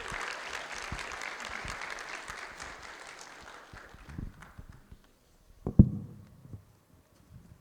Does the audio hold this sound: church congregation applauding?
yes